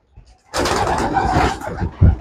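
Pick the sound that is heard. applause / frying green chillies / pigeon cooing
pigeon cooing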